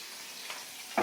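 Fish pieces fry in a pan with a steady, quiet sizzle and a sudden louder crackle right at the end.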